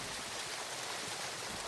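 Irappinkoottam waterfall roars near the forest as a steady, dense rush of water, loud and continuous with no voices over it.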